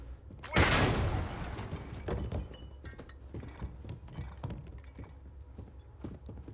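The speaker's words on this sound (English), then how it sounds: "Opening fire!" Starfield gunfire: one loud close blast opens, then scattered cracks and clinks of a firefight continue at lower level, no speech.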